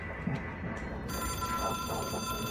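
An old-style telephone rings in the video game Control, a steady electronic ring over low ambient game hum, with no talking.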